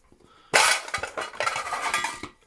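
The metal upper lid of an Optimus 99 camping stove is handled, giving a sudden close clatter followed by a series of light metallic clinks and scrapes over about two seconds, with no talk.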